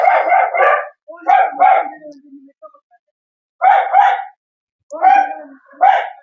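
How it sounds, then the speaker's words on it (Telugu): Dogs on a cattle farm barking in short clustered bursts of two or three sharp barks, fairly near and loud, separated by brief silences. "కుక్కలు అయితే ఉన్నాయి. ఇక్కడ కుక్కలు రెస్ట్ వస్తున్నాయి."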